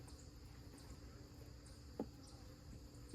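A steady, low buzz of honey bees hangs around an opened hive in a September inspection, with one brief knock about two-thirds of the way through.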